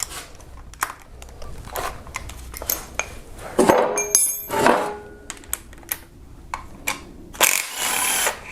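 Close, clattering metallic tool work comes from removing the 10 and 12 mm timing cover bolts on a Kia Optima, with several short bursts and clinks of what may be a powered ratchet or driver, separated by brief quiet gaps.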